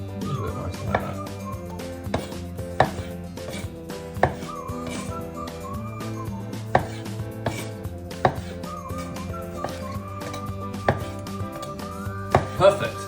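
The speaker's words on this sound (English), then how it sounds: "Next up, we're going to cut the tomatoes in half, just ready to garnish the salad." A knife cuts tomatoes in half on a board for a tuna Niçoise salad, making irregular soft taps and thuds at close range, with faint background hum and a little kitchen clatter.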